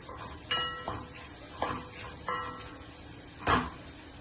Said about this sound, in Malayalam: സബോള ഒന്ന് വാടി വരുമ്പോൾ 1/4 ടീസ്പൂൺ മഞ്ഞൾപ്പൊടിയും ചേർത്ത് നന്നായി മിക്സ് ചെയ്യാം.